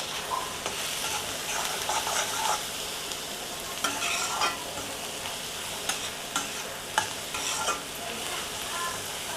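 Cluster beans fry steadily in a pan on low heat with a soft continuous sizzle, broken by a few sharp scraping clicks of stirring, close and fairly quiet.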